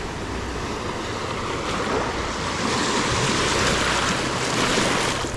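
Shallow water washes and swirls continuously around a person standing at a Gulf beach shoreline on Anclote Key, a steady close roar of surf with some wind buffeting the microphone.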